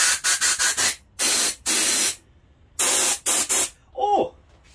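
An Impax 222-24L air compressor gives off a run of rapid, loud air bursts and longer hisses in uneven clusters, close by, ending with a brief voiced exclamation.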